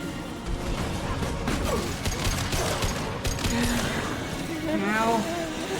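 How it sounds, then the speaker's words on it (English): A high-impact shot and surrounding combat fire in Mass Effect 2 during a boss fight, loud clattering bursts layered with game effects and occasional voice sounds. "Firing a high impact shot."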